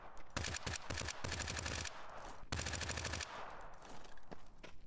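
Rapid automatic gunfire from a survival shooter video game crackles in two dense bursts separated by a short pause, fairly quiet overall, with no voice over it.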